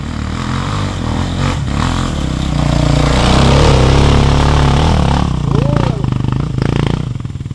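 A motorcycle revving hard as its rider pulls a wheelie outdoors, the engine droning loud and close with rising and falling throttle, while a voice talks over it.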